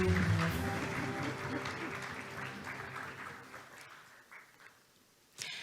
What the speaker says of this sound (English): Ladies and gentlemen, please give him another round of big applause.